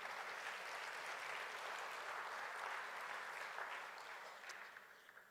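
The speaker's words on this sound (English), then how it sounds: "Yeah, you can applaud." An assembly audience at a church synod plenary session applauds after a vote passes, steady, dense clapping from a large room heard at a distance, tapering off at the end.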